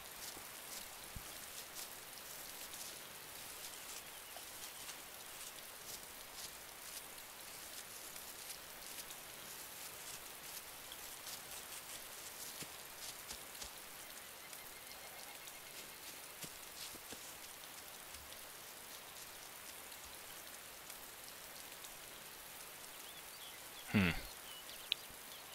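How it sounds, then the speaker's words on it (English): Steady rain patters across the whole stretch in the video game DayZ, a dense even hiss with a brief louder knock near the end; no one speaks. "I kinda like that it's not raining under this tree."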